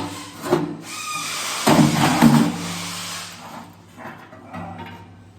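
A puller forces an old blower wheel off the shaft of an HVAC blower motor, making close metallic grinding and scraping with a few sharper scrapes and creaks in uneven bursts.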